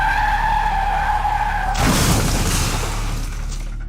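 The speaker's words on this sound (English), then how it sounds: "A CCTV clip from Kodamangala shows the moment the car crashed." An Audi car crashes into an electric pole in Koramangala, caught on CCTV. Steady tyre noise and a squeal come first, then a sudden loud broadband impact, and a rough, noisy wash fades slowly afterward, with no voices.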